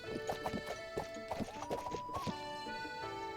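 Horse hooves clip-clopping in the video game Breath of the Wild, a quick uneven run of close, crisp hoof hits over steady background game music, with no talk.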